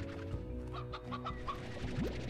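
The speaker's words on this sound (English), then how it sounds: "Hey, it's a rooster." A rooster in the Slime Rancher video game clucks several times in quick succession over a steady backdrop of game music, close and fairly quiet, with no talking.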